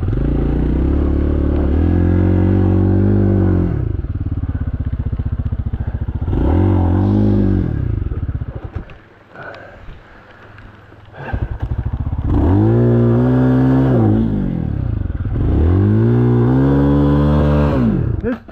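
Dirt bike on a trail, either a Lifan Xpect or a Kawasaki KLX230R, revving loudly and close in repeated surges that rise and fall, with a brief quieter idle in the middle before the engine climbs again.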